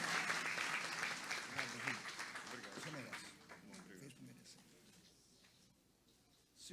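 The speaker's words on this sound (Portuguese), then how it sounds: "Uma salva de palmas ao casal" Applause from a church congregation at a Baptist temple inauguration, loud and dense at first, then gradually thinning and fading over several seconds, with voices talking under it.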